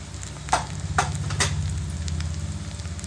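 Onion, ginger-garlic paste and chili powder frying together for a spicy murrel fish curry, a soft steady sizzle with three sharp spoon scrapes against the pan in the first seconds.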